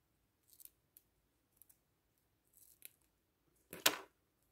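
Scissors snip thread or ribbon while making a small bow for a corset craft: a few quiet, sparse clicks and short cuts, ending in one louder, longer snip near the end, close and alone.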